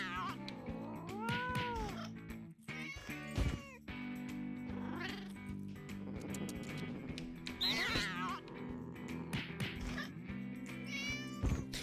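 A big fat cat in the action video game No More Heroes 2 meows and caterwauls repeatedly, loud drawn-out cries coming one after another over game music and effects with no talking.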